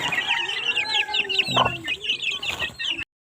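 Nearby full-grown chickens cluck and squawk in a few bursts amid constant bird chirping, ending abruptly, in the Agusan Marsh, Philippines.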